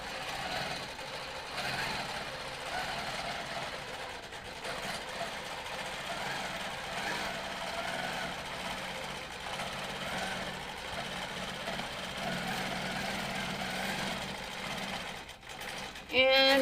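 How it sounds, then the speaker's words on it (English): A longarm quilting machine stitches binding across the top of a quilt, a steady, continuous mechanical hum and whir that runs unbroken throughout at moderate level, ending with a brief louder sound. "we're gonna stitch across the top here"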